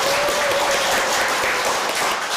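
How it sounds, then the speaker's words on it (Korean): A church congregation at Sunday worship claps to welcome missionaries visiting from Indonesia, a dense, even burst of applause that fills the room for a few seconds. "박수로 다시 한번 환영할까요?"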